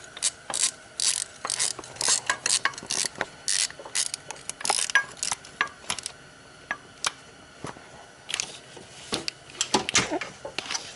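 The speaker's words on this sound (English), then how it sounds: "So I'm just going to find a 15. We're going to tighten that down." A ratchet fitted with a 15 socket tightens a bolt on an SRT-4, giving close, sharp bursts of rapid clicking separated by short pauses.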